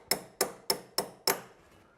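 Five sharp metallic taps of a nut being knocked onto a vehicle shock absorber bolt, close and evenly spaced at about a third of a second, each ringing briefly before the next, no talking.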